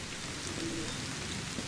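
Heavy rain falling outside in the horror video game Granny, a steady, soft hiss of downpour with no voices over it.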